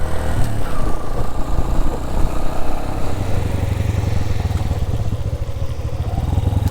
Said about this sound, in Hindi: ये देखें बहुत स्पीड के साथ पानी आ रहा है और बाइक थोड़ा अनकंट्रोल होता है